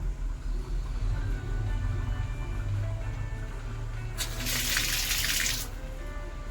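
Water rushes steadily from a bathroom angle valve line just reopened after a leaking tap was repaired, a broad hiss swelling loud for about a second and a half before cutting off, over low background rumble.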